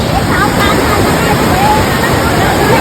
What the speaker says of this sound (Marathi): धबधबा बघू शकता कसा आहे